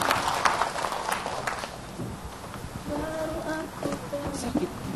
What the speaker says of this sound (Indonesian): Tepuk tangan buat Umi.